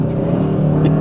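A 2022 Kia K5 GT engine revs and pulls with a rising harmonic drone, loud and close, a smooth whir building briefly as the sedan accelerates.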